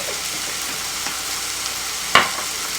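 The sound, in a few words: stirring food frying in a pan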